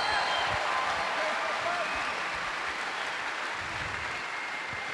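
A crowd at the 2016 World Deadlift Championships applauds and cheers powerlifter Stefan Solvi Pettersson, a steady wash of clapping through the arena while an announcer talks over it.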